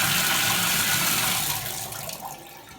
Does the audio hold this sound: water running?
yes